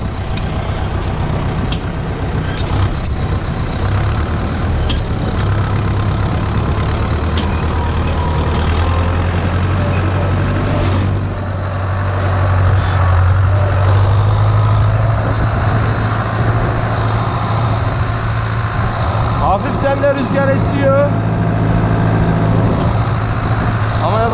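A Steyr 768 tractor engine runs steadily at a set throttle, a loud continuous low diesel drone with a brief dip in the middle and some mechanical clatter near the end.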